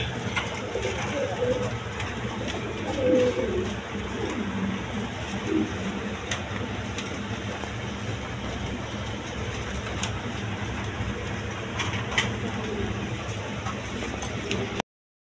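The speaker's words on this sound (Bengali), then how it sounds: "একদম বিগ সাইজের কবুতর" Big-sized pigeons kept by a seller coo softly and intermittently amid steady background noise, with people talking nearby.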